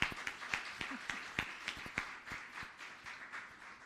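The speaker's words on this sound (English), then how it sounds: "Clap them now, clap them now." An audience applauds performing schoolchildren at an outdoor fisheries event in Jamaica, with sparse, uneven claps that come across faint and somewhat distant.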